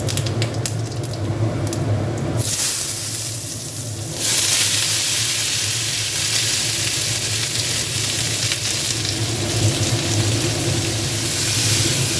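Cut potatoes frying in oil with panch phoron and dried red chillies, a loud steady sizzle with bright hiss that swells after a brief dip, continuing without a pause.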